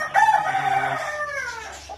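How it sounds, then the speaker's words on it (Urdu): A young bantam chicken on a small farm lets out one loud, close, drawn-out squawking call that trails off into a softer note. "یہ بینٹم کا چوزا ہے، یہ آپ دیکھ سکتے ہیں"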